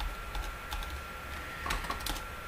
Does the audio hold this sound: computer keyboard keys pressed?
yes